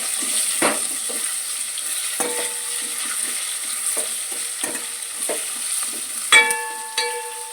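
Slit green chillies frying in a pan over a slow flame give a steady, gentle sizzle, punctuated by light stirring scrapes and a few metallic clinks of a utensil against the pan near the end.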